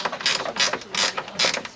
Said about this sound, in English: Pretty nifty ratchet.